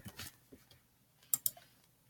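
Faint, sparse keystrokes on a computer keyboard, a few scattered taps with two sharper clicks near the end, in a quiet room with no talking.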